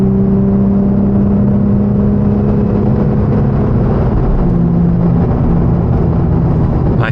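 A car with an automatic gearbox accelerates along a road, its engine a loud, steady drone with a rising tone under heavy road and wind noise.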